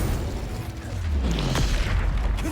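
A casting of the Incendio fire spell in Hogwarts Legacy, a loud, roaring low rumble with a whooshing sweep partway through, dense and close with no voice on top.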